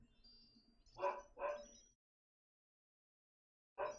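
A pet dog barks loudly indoors, two close barks in quick succession followed by a pause, then another sharp bark at the end.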